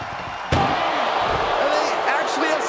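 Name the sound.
ambulance back door being forced closed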